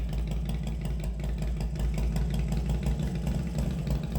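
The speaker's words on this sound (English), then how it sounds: "I like the sound of motorcycles" A motorcycle engine idles close by with a steady, even chugging pulse and a low rumble, running alone without talk.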